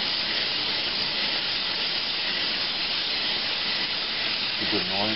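The edge of a spinning telescope lens blank being ground under pressure gives a steady, dense abrasive hiss that runs on unbroken at a constant level, close up.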